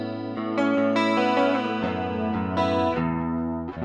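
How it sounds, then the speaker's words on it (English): Electric guitar notes and chords played through the chorus effect of a Line 6 POD, each strum ringing out with a shimmering, wavering, slightly distorted tone. "Actually, the chorus might sound pretty good."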